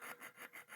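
Diamond grit files rasping on the jaws of vintage Kraeuter 4610-7 side cut diagonal pliers during a restoration, three steady rhythmic strokes close up with no voices.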